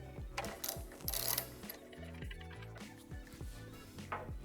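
Ratchet with a 15mm socket turning to remove the axle slider caps on a Honda Grom, a fast, steady series of clicking ratchet strokes up close, with no talk.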